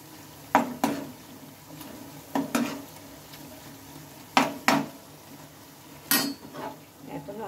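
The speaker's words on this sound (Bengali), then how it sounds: "এগুলোকে আমি উল্টে নিয়েছি আর উল্টে পাল্টে বেশ লাল লাল করে ভেজে নেবো" Pumpkin and potato snacks are flipped in a pan of hot oil, with several sharp spatula clatters against the pan over a continuous soft sizzle of frying.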